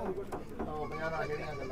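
A goat bleats at a livestock market in Punjab. Short wavering cries come close up, mixed with people talking nearby.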